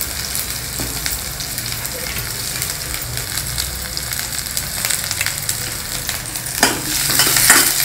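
Green chilies and curry leaves frying in a pan with dal: a dense, steady sizzle with stirring scrapes, close and loud, growing brighter and more crackly in the last second or so.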